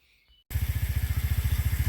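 A carbureted 2023 Hellcat Raptor 125cc motorcycle engine starts abruptly after a brief quiet moment, then idles loudly and close in a steady, rapid, throbbing pulse.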